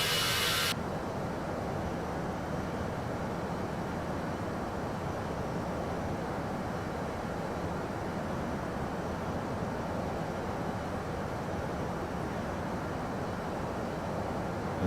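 Aircraft engine roaring during takeoff in the Prepar3D flight simulator game, a steady broadband rushing drone that stays loud and even throughout after a brief brighter burst at the start, with no talk.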